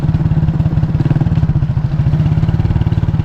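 Motor Star motorcycle riding in, a loud close engine with a rapid even pulsing putter that holds steady throughout, alone without voices.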